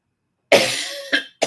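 A lecturer with a sore throat lets out a close, loud bout of coughing: one long harsh cough followed by two shorter ones, alone without talk.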